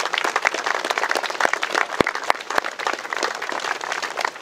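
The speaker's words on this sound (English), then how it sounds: "I think we should give them a round of applause" An audience at a school remembrance service in Pershore applauds, with many separate hand claps snapping sharply over a steady bed of clapping, moderately loud and alone.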